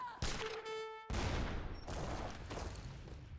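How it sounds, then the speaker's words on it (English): Heavy cannon blasts in the video game Age of Empires III crash in rapid succession, loud and dense, with a brief tonal ring between the first explosions and continuous battle rumble. "There's so many heavy cannons coming in."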